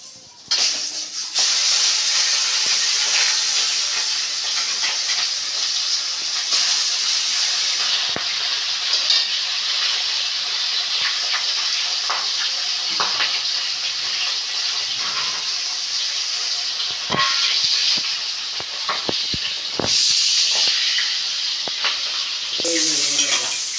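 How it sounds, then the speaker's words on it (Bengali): A shol fish head fries in hot oil with a loud, continuous crackling sizzle. Scattered spatula scrapes and pops break through, and the sizzle dips briefly near the end. "মাছের মাথাটা ভেজে নেবো।"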